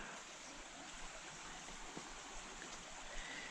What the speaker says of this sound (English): I got me some nice little flowing water here.